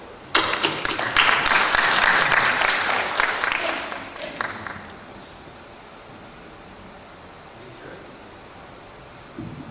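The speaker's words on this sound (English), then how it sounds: "Please give him one round of applause." Audience at an academic trade conference applauds a presenter in a brisk burst of clapping that fades out after a few seconds, leaving quiet room tone.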